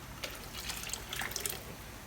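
Pickled garlic liquid pours into a blender bag to rinse its sides, a steady close splashing trickle of liquid with small drips and no voices.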